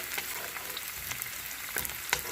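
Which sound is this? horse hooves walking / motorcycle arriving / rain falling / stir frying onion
stir frying onion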